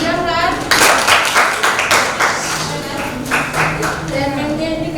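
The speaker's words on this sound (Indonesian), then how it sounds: "berikan aplaus untuk Mujahran" A classroom of students applauds, a burst of dense clapping that swells and carries on for several seconds, with children's voices mixed in.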